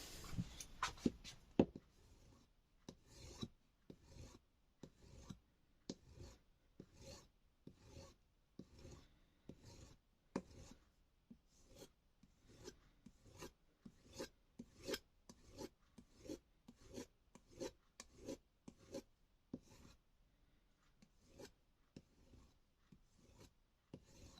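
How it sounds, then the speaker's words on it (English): Knife blade stropped after honing on a Suehiro Cerax CR-3800 whetstone, a quiet steady rhythm of back-and-forth rasping strokes, about two per second, close and alone. "Okay, stropping time."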